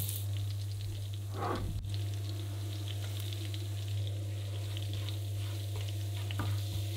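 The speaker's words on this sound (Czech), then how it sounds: "Jako první orestujte mírně česnek. Samozřejmě v tom výpeku z toho masa" Garlic gently sizzling in pork roast drippings in a pan, a soft continuous frying hiss with an occasional stir, faint and steady over a low background hum.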